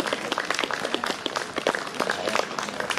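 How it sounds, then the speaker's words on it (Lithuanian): An audience claps for the Panevėžio Trimitai orchestra at a live concert, a dense, fairly loud burst of applause lasting a few seconds with scattered individual claps standing out. "Paplokite jiems."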